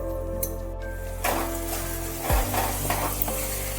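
Chopped garlic dropped into hot oil for a Bengali dhaba-style egg tarka, a steady close sizzle that swells as it is stirred, with spoon scrapes against the pan and no talking.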